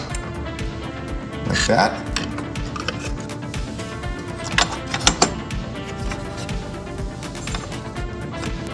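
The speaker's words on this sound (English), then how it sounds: "go ahead and drop our drums into position, and they're magnetic, so they just drop right into place" Magnetic custom drum pieces drop into place on a Jersey Jack Guns N' Roses pinball machine, giving hard plastic clacks and clicks, a few sharp taps standing out, while someone talks briefly.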